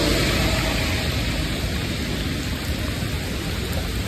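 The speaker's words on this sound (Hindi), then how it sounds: "और झमाझम बारिश शुरू हो गई" Heavy rain pours down steadily during a sudden downpour, a dense, loud hiss filling the whole stretch with a low rumble underneath that suggests thunder; no voices.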